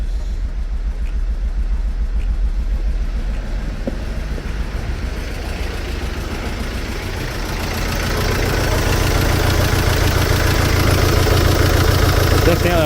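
A Mercedes Sprinter van's diesel engine idles roughly and unevenly after an injector replacement, a steady close rumble that swells slightly in the second half.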